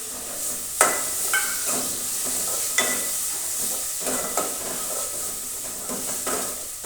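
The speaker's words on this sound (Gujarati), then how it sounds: "હવે આપણે નાખીશું ટમેટા મરચાં અને મેથી છે" Tomatoes, chillies and fenugreek sizzle in a pan with boiled potatoes, a continuous hissing fry broken by several sharp clinks and scrapes of stirring.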